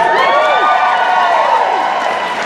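An audience cheering and whooping loudly in a steady, dense wash of voices that fills the whole moment without a break.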